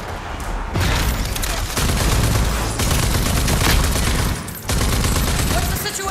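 Dense gunfire rattles through a firefight in the video game Rage 2, with rapid bursts and booms layered loudly and continuously, broken by a few brief pauses.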